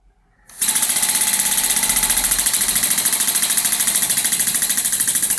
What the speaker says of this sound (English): Now let me show you the working of the air engine.